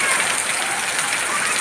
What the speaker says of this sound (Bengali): ভীষণ বৃষ্টি হচ্ছে।